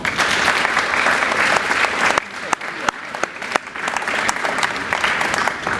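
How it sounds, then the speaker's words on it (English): Sustained audience applause, a dense wash of clapping from a crowd that thins briefly midway, then swells again, with a few sharper individual claps. "Give these people a round of applause."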